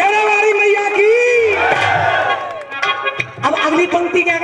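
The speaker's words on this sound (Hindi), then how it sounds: "एक बार इनके लिए भी जोरदार तालियां हो जाए" A crowd at a rasiya dangal, a folk-song contest, lets out a loud, lively cheer that rises and then fades, mixed with amplified voices.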